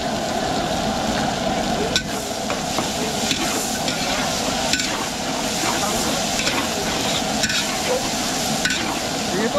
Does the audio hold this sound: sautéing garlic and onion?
yes